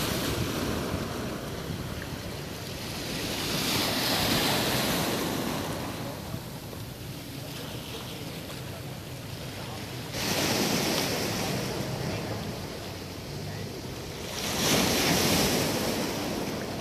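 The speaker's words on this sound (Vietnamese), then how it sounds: "những cái tảng đá mà sóng đánh riết nó mòn nhẵn luôn, nó trơn láng luôn" Sea waves breaking on rocks at Bãi Dứa beach in Vũng Tàu, a continuous roaring wash with surges swelling every few seconds and wind buffeting the microphone.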